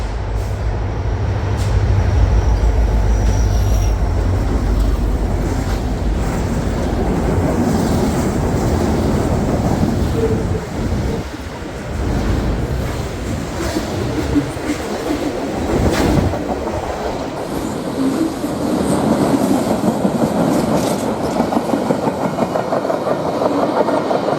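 A freight train rolls past at close range near Moncton's Gordon Yard on a mid-October afternoon, a steady loud rumble of wheels and cars with clickety-clack rhythm sustained for the whole stretch, no talk.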